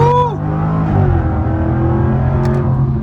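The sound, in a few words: 2022 Jaguar F-Type R accelerating on highway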